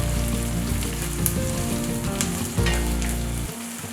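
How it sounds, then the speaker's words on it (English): Fresh bamboo shoots stir-fried in a pan with onion give a loud, steady sizzle and crackle, with occasional scraping stirs, close and alone. "just stir fry a bit and then add the bamboo"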